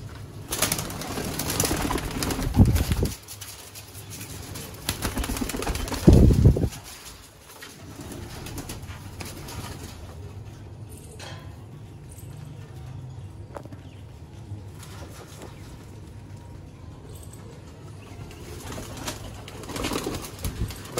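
Sialkoti pigeons kept for sale in Sialkot give soft low coos, with bursts of wing flapping and shuffling early on, close by over a quiet background.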